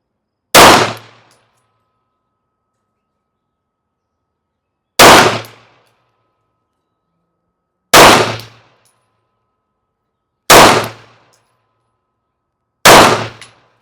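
Five loud, sharp pistol shots using Turkish Venom ammunition, fired at about 7 yards at an outdoor range, each a crisp crack with a short decay, spaced several seconds apart, with no talk.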